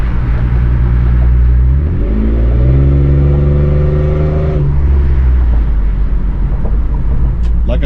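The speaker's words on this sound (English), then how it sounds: "this is what it sounds like whenever I put a little bit of effort on the gas pedal" A Toyota 4Runner engine fitted with headers accelerates at partial throttle, a loud close rumble rising in pitch as it revs up, then easing back to a steady drone.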